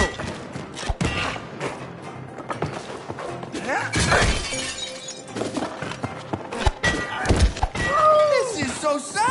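A hammer strikes a nail in It Takes Two, producing repeated loud metallic thunks and bangs within busy game sound effects, with voices talking throughout.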